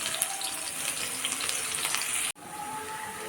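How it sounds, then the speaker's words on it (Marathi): Finely chopped onion frying in hot oil with cumin and asafoetida gives a steady, close sizzle, briefly cut off near the end before resuming. "कांदा छान ब्राऊन होईपर्यंत आपल्याला परतून घ्यायचा आहे"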